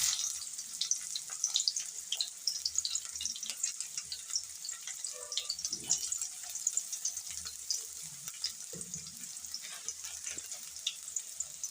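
Chopped onion hitting hot oil with curry leaves in a pan, a steady, faint crackling sizzle that runs throughout, with occasional soft clinks and stirring sounds.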